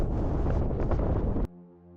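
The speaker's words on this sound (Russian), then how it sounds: "На высоте примерно 8400 поднялся сильный ветер." A strong wind at about 8,400 metres on Mount Everest roars and buffets hard against the microphone, then cuts off abruptly, leaving only a faint low hum.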